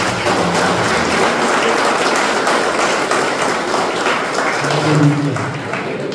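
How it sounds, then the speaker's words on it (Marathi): A church congregation claps together in a dense, continuous wash of applause that holds loud and even throughout, with faint voices mixed in. "आपण टाळ्या वाजवतो"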